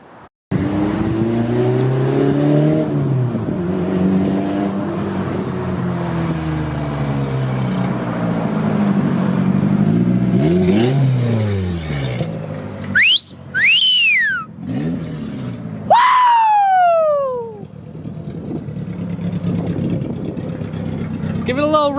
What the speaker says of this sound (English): Give it a little rev so they can see the tag.